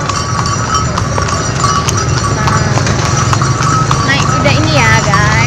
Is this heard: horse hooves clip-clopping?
yes